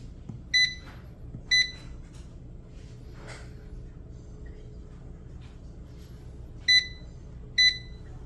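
Four short electronic beeps from an air fryer as it is set to 390 degrees for 8 minutes for keto Spam fries, evenly spaced in two pairs over a quiet kitchen background.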